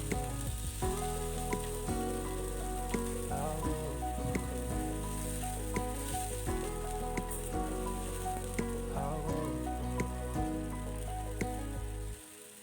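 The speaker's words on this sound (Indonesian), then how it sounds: "Tumis-tumis dulu sampai matang." Seasoning paste stir-fried in a pan sizzles loudly and steadily, a dense close crackle with occasional stirring scrapes, running without pause and with no voices.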